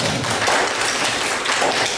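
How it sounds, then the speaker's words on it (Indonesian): Classroom of students clapping together for a classmate, a dense, steady burst of many hands close by, loud and continuous with no talk over it. "boleh tepuk tangan untuk Ilham"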